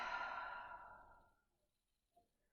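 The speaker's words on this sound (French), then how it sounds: "Et on expire." A long, soft exhale during a yoga breathing exercise, fading out gradually over about a second and a half, then near silence broken by one faint brief breath.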